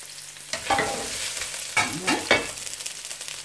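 Shrimp with very hot pepper sizzle in a pan for hot and spicy chow mein, close frying crackle punctuated by several scraping stirs of a utensil.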